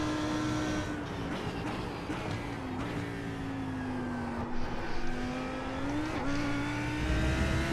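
GT3 race car engines at Monza in the iRacing sim, with an Audi among the pack: a steady, loud engine drone that rises and dips in pitch through gear changes, continuous over the whole stretch with no talk.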